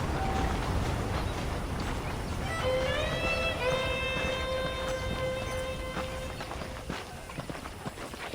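Horse hooves clip-clop at a steady walking pace in the Red Dead Redemption video game, near and continuous beneath an ambient bed with some sustained tonal music entering partway through.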